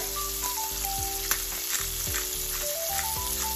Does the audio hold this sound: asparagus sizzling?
yes